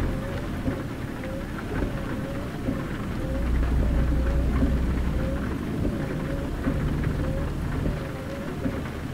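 Heavy rain and rolling thunder in a truck-driving game on a Grand Junction, Colorado to Rawlins, Wyoming route: a constant loud hiss of rainfall with a deep rumble swelling in the middle, no voices.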